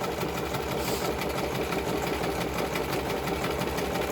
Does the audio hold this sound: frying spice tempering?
no